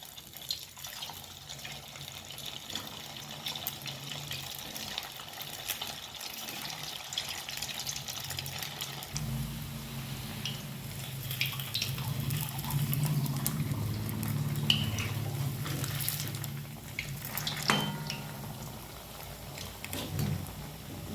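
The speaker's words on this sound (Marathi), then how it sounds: "चला तर मग आता हे आपण वडे तळून घेऊया।" Rava medu vada drop into hot oil in a pan and fry with a soft, bubbling sizzle that swells partway through and stays steady and fairly faint, with no talking.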